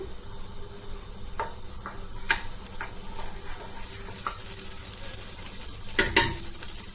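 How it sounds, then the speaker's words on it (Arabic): Meat frying in oil and ghee in a cooking pot makes a low, steady sizzle, punctuated by occasional clicks and a louder clatter of utensil against metal near the end. "دوك نبدا نقلي انا في اللحم"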